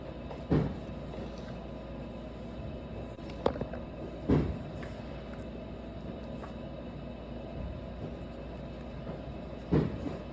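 Muffled booms of distant fireworks heard from inside a house, a handful of soft thuds spaced irregularly over a constant low background rumble.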